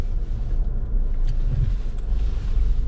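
A car driving home, heard from inside as a steady low engine and road rumble with some wind buffeting on the microphone and no talking.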